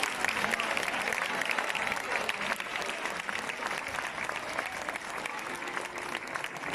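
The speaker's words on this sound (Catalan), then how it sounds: "Un fort aplaudiment." A festival crowd at the Festa de la Malavella gives loud, sustained applause as three women receive an award, dense clapping rolling on evenly for several seconds with a murmur of voices underneath.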